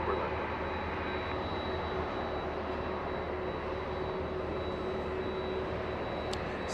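A Southwest Airlines jet taxis at Los Angeles International Airport, giving a continuous broad engine roar with a steady whine that stays even throughout, heard from a distance without nearby voices.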